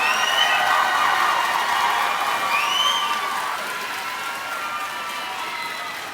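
A crowd at a high school graduation ceremony applauds the graduating students, diffuse clapping mixed with cheers and high whoops that gradually fades.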